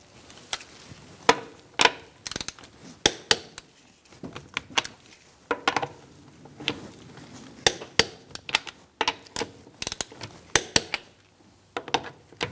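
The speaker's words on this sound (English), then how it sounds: "We're going to torque our wheel to 85 foot-pounds in a star-like pattern." Torque wrench tightening the wheel lug nuts on a 2004-2009 Mazda 3 to 85 foot-pounds: sharp close ratcheting clicks in irregular clusters, repeated throughout with quiet gaps between.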